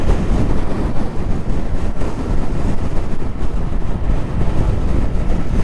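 Yamaha FZ6R motorcycle on stock exhaust, its engine revving steadily while riding, a continuous loud drone mixed with rushing wind noise, no talking.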